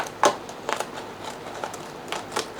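Small scissors snip across a plastic moss pole for a houseplant, a few crisp cuts spaced out and close by, with quiet pauses between each snip.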